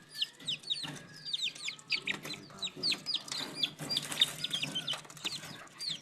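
Malaysian Serama chickens cluck and chirp in quick, repeated high calls, several birds close by with soft background murmur.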